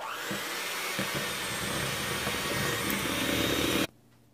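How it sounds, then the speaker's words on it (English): An electric hand mixer beats peanut butter cookie dough in a steady, loud whirring drone that holds for nearly four seconds and then cuts off abruptly, leaving near silence. "we are just going to beat this with our hand mixer for 30 seconds"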